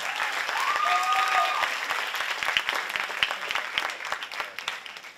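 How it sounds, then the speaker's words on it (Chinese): An audience applauds at a club anniversary stage show, with dense sustained clapping that slowly thins into scattered claps and a brief whistle-like tone early on. "请不要吝啬你们的掌声"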